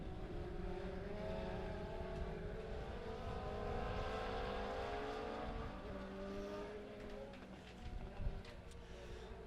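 Several race cars at Springfield Raceway, a dirt track, roar together in a steady, dense engine drone for the whole stretch, with rising revs and a louder burst near the end.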